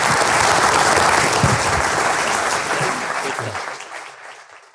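A room of people bursts into loud, sustained applause for a soccer club's sporting director at a St. Louis City fan event, the clapping steady at first and then gradually thinning out toward the end.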